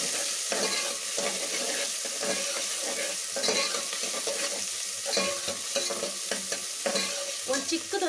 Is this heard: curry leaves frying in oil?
yes